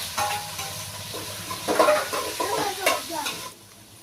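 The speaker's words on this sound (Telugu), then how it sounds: "ఇదిగోండి ఇప్పుడైతే ఉడికించిన మటన్ ముక్కలు వేస్తున్నాను." Boiled mutton pieces dropped into a hot pan and stirred, with close spoon scrapes and a sizzle that flares in bursts over about three seconds before fading.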